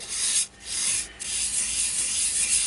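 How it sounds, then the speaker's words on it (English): Yorkshire Grit abrasive paste being rubbed by hand into the grain of turned wood, a steady close rasping friction that runs almost without pause, broken by two short lifts near the start. "Just rub it into the grain nicely, a little bit more."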